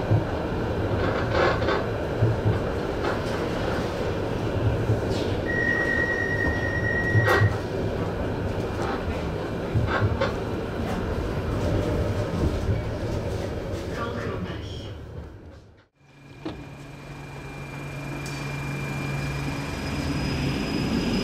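A tram passes on a street in Ghent, Belgium, with a loud continuous rumble, squealing wheels and clattering rails, then fades abruptly and a steady hum follows; voices are heard faintly underneath.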